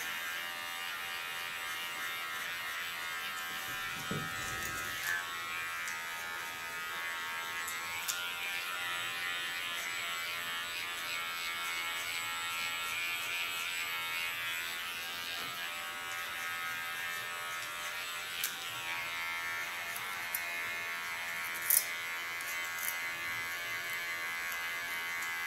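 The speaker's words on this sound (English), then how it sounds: "Makes gliding of the clipper a lot easier." An electric hair clipper shaving a person's nape on dry, unwashed hair gives a steady close buzzing hum throughout, with small shifts in pitch as it glides over the skin, and no talking.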